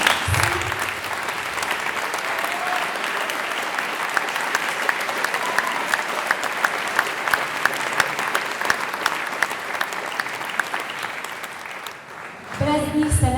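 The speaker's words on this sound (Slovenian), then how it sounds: "en velik aplavz za njih" A large audience applauds at a youth choir festival in Celje, a dense sustained roar of many hands clapping for about twelve seconds before it cuts off and a voice briefly returns at the end.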